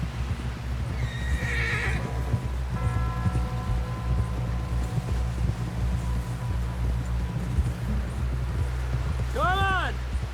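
A horse in Red Dead Redemption 2 walks with soft, faint hoof clops beneath wind and a low rumbling background, with brief voices early on and a loud whinny near the end.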